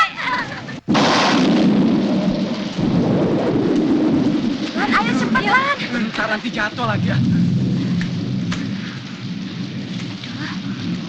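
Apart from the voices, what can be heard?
rain and thunderstorm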